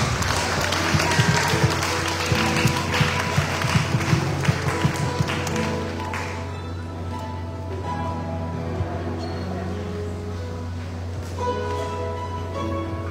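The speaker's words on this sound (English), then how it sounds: "Let us offer a hand clap unto our living God." Church congregation clapping hands during a Palm Sunday morning service: rhythmic claps in the first half over a sustained organ or music drone that continues after the clapping fades.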